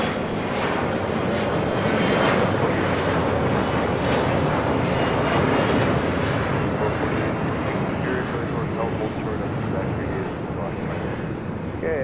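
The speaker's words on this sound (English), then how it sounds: "This is Delta Connection 4018 taking off to San Diego on an E175." Delta Connection Embraer E175 regional jet taking off at LAX, a loud, steady, broad engine roar that fills the whole clip at close range with wind rush.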